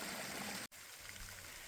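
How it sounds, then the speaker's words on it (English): Small, simple waterfall on an Appalachian mountain trail, a steady broadband rush of flowing water, close and fairly loud, with one brief dropout near the start. "We're coming up on just a really simple but beautiful waterfall"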